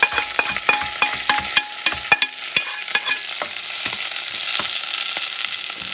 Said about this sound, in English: What I'm going to do, I'm going to transfer the veggies, ginger,